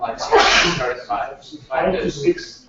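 A single sharp sneeze bursts out in a meeting, followed by short speech from the people talking in the room.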